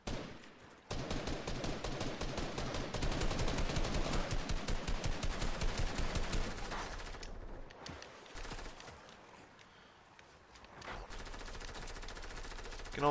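Sustained automatic gunfire in Fortnite hammers away loudly for several seconds, then gives way to quieter, scattered shots and game sounds.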